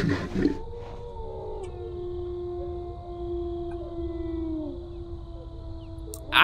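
A wolf pack howls in a hunting video game set in Siberia: several long, wavering howls overlap and sustain at moderate distance, opened and closed by brief louder noises.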